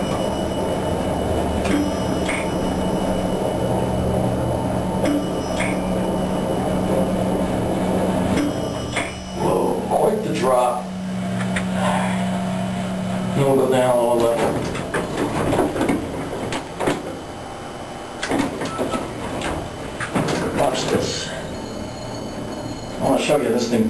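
A National hydraulic elevator at a station plaza in Mineola, running rough, gives a continuous rumbling, rattling vibration with clanks and metallic squeaks, loud and close, while someone talks over it.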